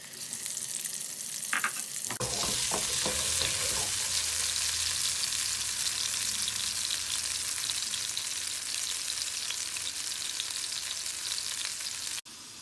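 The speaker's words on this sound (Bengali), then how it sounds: "অল্প তেল দিয়ে আলুটা ভেজে নিবে গোল্ডেন ব্রাউন হওয়া পর্যন্ত" Potatoes fry in a little oil with a loud, steady broadband sizzle that starts abruptly after a quiet opening and runs almost unbroken to the end, with a few stirring clatters near the start.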